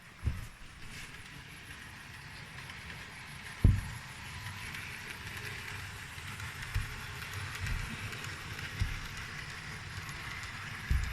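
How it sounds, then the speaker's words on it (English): Model train running along a layout track, a soft continuous rolling rumble with faint rhythmic clicks from the rail joints, heard fairly close with no one talking. "what I'll do is I'll run the train up here"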